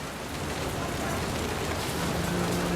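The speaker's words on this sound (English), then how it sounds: "The rain came down in buckets then" Steady, heavy rain pouring down as a dense hiss, the downpour over a crudely made tent in the game What Remains of Edith Finch, continuous and close throughout.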